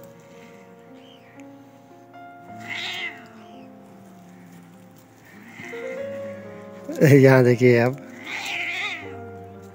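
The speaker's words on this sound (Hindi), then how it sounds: "यहाँ पर हो रही है दो बिल्लियों की लड़ाई" Cats yowling and meowing in a tense fight, with short cries through the first half and a loud, sharp burst of caterwauling near the end, while someone talks over the scene.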